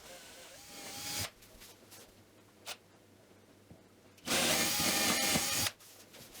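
A power tool removing screws from a wood floor whirs in two bursts, a short one at the start and a longer, louder run later, with quiet handling noise in between.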